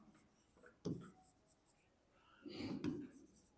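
Pen writing on paper during an English class, soft scratchy strokes in short bursts with pauses, faint and close, with quiet breathy voice sounds in the background.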